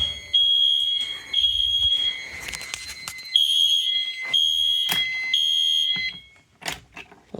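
Fire alarm mini horns sound during a restroom heat detector test as a loud, close series of shrill tonal blasts broken by short gaps, joined by brief clanking noises partway through.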